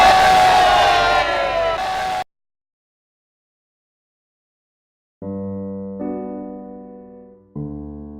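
A brief burst of conference crowd cheering and whooping at SimGHOSTS 2013 cuts off abruptly into silence, followed later by steady electronic tones.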